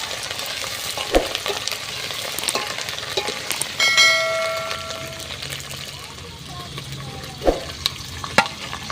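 Mustard and other tempering seeds frying in oil with curry leaves, crackling and stirring scrapes with a brief ringing metallic tone midway, while voices talk over parts of it.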